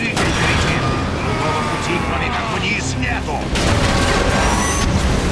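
Booming video-game explosions and blasts from a Transformers: War for Cybertron battle roll through the scene, loud and dense, with mechanical clanks mixed in and someone talking over the action.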